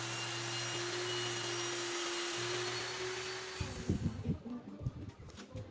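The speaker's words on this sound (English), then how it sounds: "I'm cutting it slowly to not reach the clamp from the saw blade." A saw blade running steadily as it slowly cuts wood for a lampshade, a continuous motor drone that cuts out partway through, followed by irregular knocks and clatter of handling the wood.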